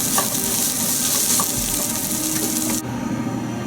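Onions sizzle and fry in a hot pan for a crab curry, a loud, steady crackle with a few stirring clinks, ending suddenly as the heat drops and the frying quietens.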